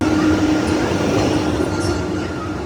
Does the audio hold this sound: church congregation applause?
no